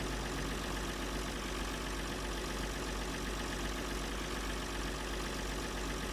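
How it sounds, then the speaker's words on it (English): A tractor engine idles in Farming Simulator 2013, giving a steady, even drone that holds at one level throughout with no speech over it. "let me just turn off the engine"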